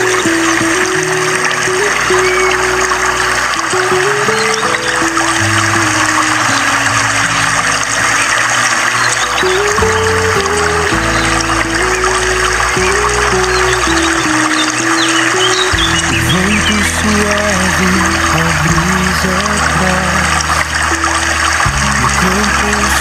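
Villa Bagao waterfall in Sibalom, Antique pours steadily as a loud, continuous rush of falling water that fills the whole clip, with faint voices and background sounds mixed underneath.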